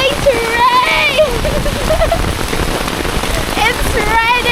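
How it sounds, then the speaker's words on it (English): Steady rain falls on surfaces in a dense, continuous patter, loud and close throughout, while people talk over it. "It's raining day! It's been a rain all 2 weeks."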